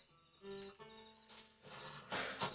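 Horse hooves clop rapidly in a steady galloping rhythm in Red Dead Redemption, moderately close, with a brief snort or whinny near the start.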